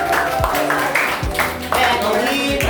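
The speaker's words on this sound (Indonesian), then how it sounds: "Oke, kita beri aplaus untuk kelompok kontra." Classroom applause for the contra debate group, a burst of clapping mixed with voices and background chatter.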